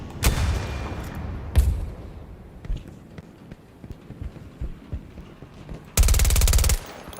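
Weapon fire at fuel tanks in the shooter game Battlefield 2042, heard as a few sharp separate shots early on and then a loud, dense automatic burst near the end, with quieter game sounds between them.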